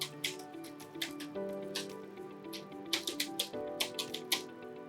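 An email address being typed on a computer keyboard, with quick, light keystrokes in irregular bursts over a soft sustained tonal background.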